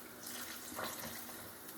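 Water from a tap runs into a pot of broccoli cheddar soup as a cup is added. It is a faint, steady pour lasting under two seconds.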